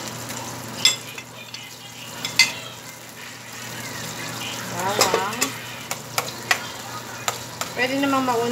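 Chicken pieces sizzling in a pan as a budget carbonara base, a steady fry hiss with a few louder clatters and stirring scrapes; faint voices surface briefly near the end.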